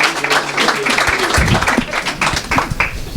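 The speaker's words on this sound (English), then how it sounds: "Thank you very much for the wonderful applause." An audience at a Startup Grind event at Broward College claps for a speaker, a brief burst of dense, steady applause close by.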